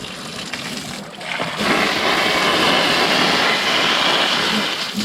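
Steady rushing splash of water poured from an open-ended garden hose with no nozzle, partly thumb-blocked while rinsing freshly picked blue crab meat outdoors; a continuous loud broadband spray that swells and stays constant throughout.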